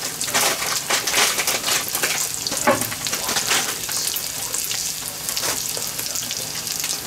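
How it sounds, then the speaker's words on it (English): Ten ounces of sweet corn stir-fried with Spam in a pan produces a loud, continuous crackling sizzle, broken by repeated scraping stirs close by. "I'm gonna fry the corn."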